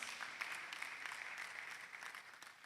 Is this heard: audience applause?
yes